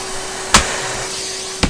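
A Numatic vacuum cleaner fitted with a hard floor head runs with a steady whine and airflow hiss, broken by two sharp knocks of the head against the floor, close and with no voices.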